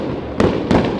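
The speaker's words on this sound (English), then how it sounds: "Those fireworks are going off." Winterval fireworks bursting in a quick series of three loud, sharp bangs close by, with crackling noise between them.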